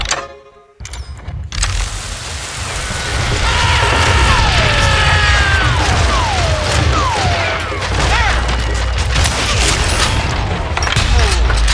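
Dense, rapid gunfire and crashing impacts rattle continuously, with whistling ricochet-like sweeps over a loud, busy game-style soundscape.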